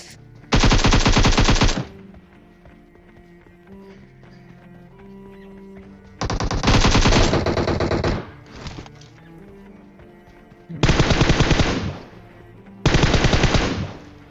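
Automatic gunfire from a multiplayer shooter game battle against a hacker, coming in four loud, dense bursts of rapid fire separated by quieter stretches of game ambience.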